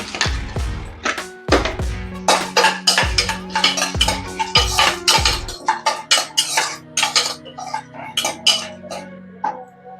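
Salt, chaat masala and chili are stirred into popcorn in a metal pot, producing rapid clattering scrapes and clinks that are loud and close, settling into lighter rattles toward the end.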